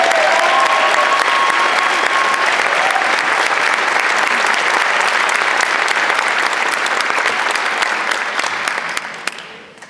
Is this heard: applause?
yes